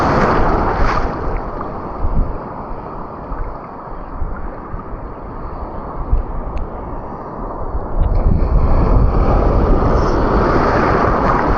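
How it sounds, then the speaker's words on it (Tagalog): Strong sea waves surge against a rocky shore, with heavy wind buffeting the microphone in a constant loud roar that swells near the end and has no speech over it. "so malakas-lakas tong mga alon."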